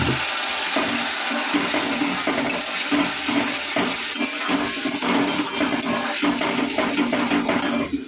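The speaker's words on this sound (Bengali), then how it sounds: "যেহেতু গুঁড়ো মশলা দিলাম সামান্য একটু জল দেবো।" Water pours steadily onto ground spices, cumin powder among them, in a hot pan, making a loud continuous rushing hiss that lasts the whole stretch and cuts off at the end.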